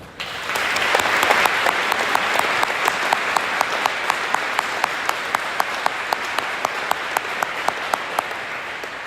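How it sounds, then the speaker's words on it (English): At a Veterans Day celebration in a high school, an audience gives Craig Stewart a round of applause. Steady crowd clapping continues throughout, with one person's sharp, rhythmic claps standing out close by. "Please join me in a round of applause for his work in planning this event"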